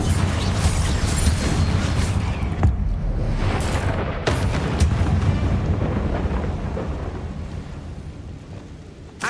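Confringo blasting spell explosions in the video game Hogwarts Legacy: a long, roaring wash of booming blasts and crashing debris, with sharp cracks and impacts breaking through a sustained rumble that slowly fades.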